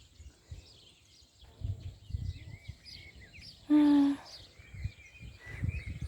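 Birds chirp in a cornfield, with faint scattered high tweets spread across the quiet outdoor background and one brief louder tonal call near the middle.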